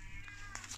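A stray cat gives a brief, faint meow outdoors, followed by a couple of quick higher squeaky notes, all within under a second.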